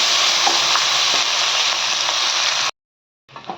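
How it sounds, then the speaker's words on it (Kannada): Cumin, pepper and coriander fry in hot oil in a pan, giving a loud, dense, close sizzle that runs steadily and then cuts off abruptly. A brief faint crackle follows. "ಇಷ್ಟನ್ನು ಒಂದು ಬಾಣಲಿ ಇಟ್ಕೊಂಡು ಎಣ್ಣೆ ಹಾಕ್ಕೊಂಡು, ಎಣ್ಣೆ ಬಿಸಿಯಾದ ನಂತರ ಕಾಯನ್ನು ತೆಗೆದಿಟ್ಕೊಂಡು ಇನ್ನೆಲ್ಲ ಈ ಬಿಸಿಯಾಗಿರೋ ಎಣ್ಣೆ ಒಳಗೆ ಹಾಕ್ಕೊಳ್ಳೋಣ"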